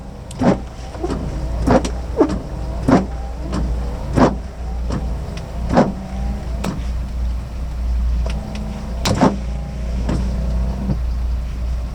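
Windscreen wipers on a 1970 Datsun Cedric G130 Super Six sweep back and forth with a regular thumping rhythm, each stroke a short swish-and-thud over a low steady idle hum.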